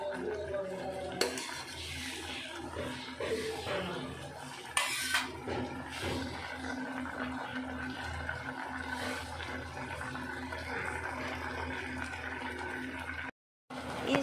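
Maggi noodles cook in a pan with softened onion and tomato, with clinks and scrapes of a utensil stirring against the pan and a soft bubbling background, then a brief silent gap near the end.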